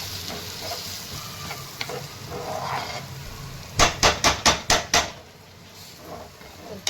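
Semolina (rava) roasting in ghee in a pan, a hissing sizzle with stirring, then a quick run of about six sharp metallic knocks of a spoon against the pan before the sizzle settles quietly.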